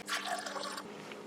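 Water being measured out for a homemade soap recipe, a steady close splashing pour that fills the moment without pause and tapers slightly at the end, no talk.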